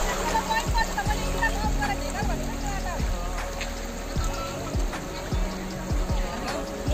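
Flowing river water, a slower stretch of a mountain stream, trickles and gurgles steadily in the foreground while people talk over it.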